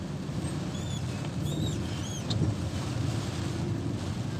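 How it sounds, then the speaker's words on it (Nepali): Rain falling outside a moving vehicle on a crowded road, heard as a steady broadband wash of wind, road and water noise from inside, with faint chirps above and no talk. "ल हेर्नुहोस् पानी परिरहेको छ।"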